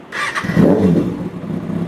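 A 2019 Kawasaki ZX-6R 636 sport bike engine cranks briefly with the starter, catches and settles into a rough, throbbing idle close by.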